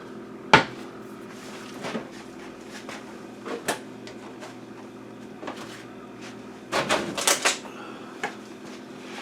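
A baking dish is taken out while a pear cobbler batter is made: several sharp knocks and clatters of a cupboard and cookware, spaced irregularly and fairly close, with one louder bang near the start.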